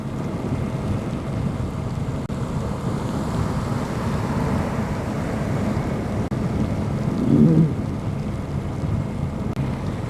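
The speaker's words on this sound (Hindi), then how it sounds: "भाई फिर भी मानसून जैसी बारिश हो गई भाई, उससे भी तगड़ी बारिश हो गई।" Heavy monsoon-like rain during a solo motorcycle ride from Chittorgarh to Udaipur, a dense steady roar of rain and rushing wind filling the whole stretch, loud and continuous with no speech.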